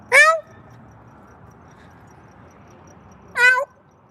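Two short cat meows, one at the start and one near the end, separated by quiet background, from street cats being fed, including the bold Winston and the skittish Neville.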